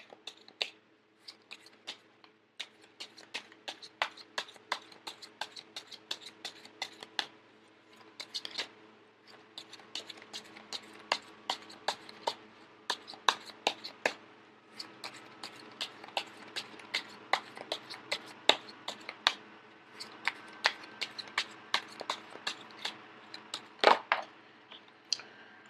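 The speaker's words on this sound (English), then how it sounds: "So once again, I am going to shuffle until the first card pops out," Tarot cards being shuffled and drawn produce a long run of soft, close flicks and riffles, irregular and quiet, with short pauses between bursts.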